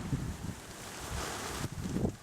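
Gusting wind buffets the scene with a broad rushing noise and low rumbles; a brief sharp shift near the end.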